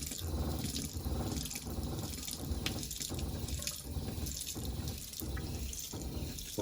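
Water running steadily through horse trailer water lines as it is pumped out ahead of antifreeze during winterizing, a continuous splashing faucet-like flow close by with no talk.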